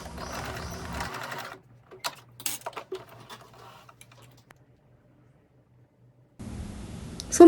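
A sewing machine stitches a dolman-sleeve hooded cardigan in a steady whirring run at the start, then goes quiet with scattered light clicks and taps before another whirring burst near the end; no one speaks.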